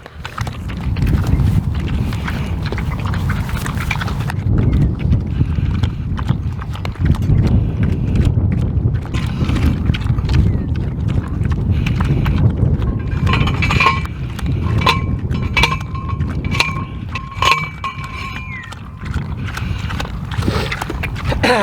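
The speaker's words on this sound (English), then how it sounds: "I'm gonna go hammer in a T-post for these pigs real quick." Sharp metallic clanks ring out as a steel T-post is hammered into the ground, a steady series of loud, close blows over a constant low rumble of outdoor background noise.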